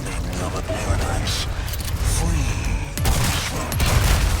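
Shotgun blasts in Resident Evil 4 Remake ring out amid dense, continuous game combat noise, with a player talking excitedly over the action.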